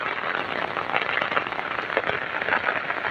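Heavy continuous rain during a flood in Assam pours steadily on surfaces, a dense even hiss with scattered patters of drops, alone and fairly loud throughout.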